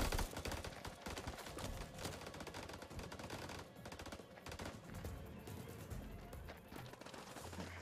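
Rapid, dense gunfire from the House of Ashes video game, continuous bursts at loud volume, with sharp repeated shots crowding the whole stretch.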